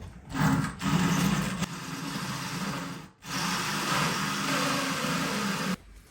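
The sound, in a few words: drill boring into tile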